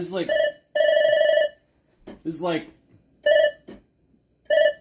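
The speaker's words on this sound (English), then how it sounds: "This is like 90s office phone. This is like the phone in your house." An old 1990s-style office telephone rings in sustained electronic tones, several bursts separated by gaps, with people's voices in between.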